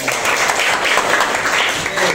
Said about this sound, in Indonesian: kita duduk dulu tepuk tangan untuk speaker